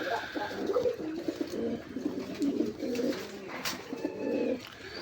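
A pair of pigeons, a male and a female, coo close by in soft, repeated rolling phrases that swell and fade over a few seconds, with no voices.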